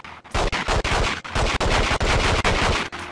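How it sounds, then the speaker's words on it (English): Gunfire in a James Bond video game comes as a rapid, loud burst of repeated shots, close and almost continuous for a few seconds, aimed at a box, with no voices over it. "Maybe if I shoot the box."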